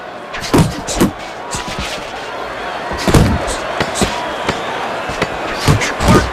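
Boxing punches land in the video game Fight Night Champion as a run of sharp, heavy thuds and slams at an uneven rhythm, some in quick combinations, over a faint crowd-like background.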